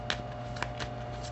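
Tarot cards shuffled by hand, soft papery riffles and taps in a quick uneven rhythm, close but fairly quiet over a steady background hum, with no talking.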